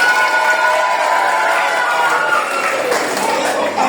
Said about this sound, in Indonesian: tepuk tangan untuk senang sore